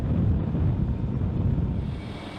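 A large KC-10 tanker aircraft, 181 feet long with a 165-foot wingspan, produces a continuous low, rumbling engine roar with wind-like noise, steady and fairly loud throughout.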